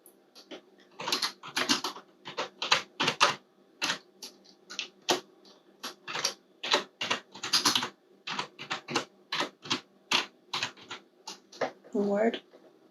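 Rapid clacking keystrokes on a computer keyboard come in irregular bursts, close and crisp, with a brief murmur of speech near the end.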